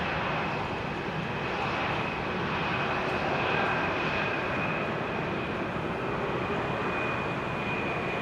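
A JetBlue jet airliner taxis at Amsterdam Schiphol Airport in showery weather, its engines producing a steady, broad roar with a high whine on top, fairly loud and continuous throughout.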